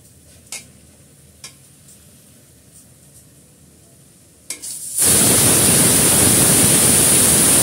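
Haleem spice mix fries in a pan. A few light scrapes of stirring come first, then a sudden loud, steady sizzle of frying takes over.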